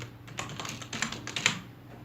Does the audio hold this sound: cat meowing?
no